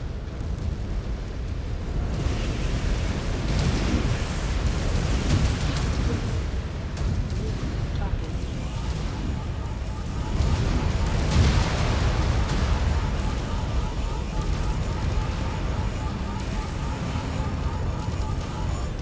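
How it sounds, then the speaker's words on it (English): Dense, continuous rumbling blasts and booms from combat in the video game Mechs & Crocs, with repeated heavy impacts over about nineteen seconds, loud and sustained, with a synthetic voice speaking over the action. "Reactor breach. Explosion imminent. Target destroyed."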